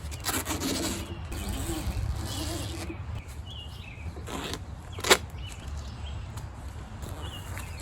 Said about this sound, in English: There's a separate zipper for the top piece and both the side pieces. So I'm gonna pull this along and show you.